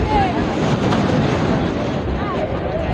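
Loud, constant roar of strong night wind at Patenga Sea Beach buffeting the microphone, with a rushing outdoor backdrop and no distinct voices.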